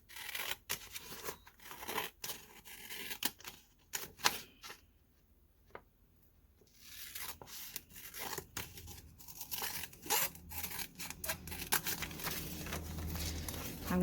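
Paper being cut with scissors for quilting ephemera, a quick run of close, crisp snips and rustles, a short pause, then more cutting and crinkling of the sheet.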